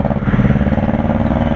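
Loud, close rumble of a 2021 Benelli Imperiale 400 BS6 motorcycle engine and exhaust, a steady pulsing thump that continues without a break while riding.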